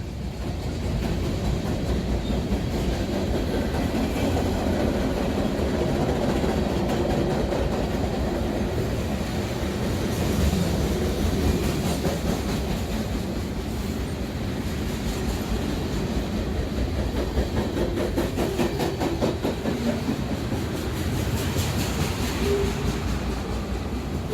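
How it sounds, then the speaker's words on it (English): A CSX freight train led by three diesel locomotives, including an ET44A, a Dash 8 and a GP15-1, rumbling past on the Trenton Subdivision, with a steady loud roar and clickety-clack of wagons throughout, no voices. "On March 2019, we view 3 diesels on a freight."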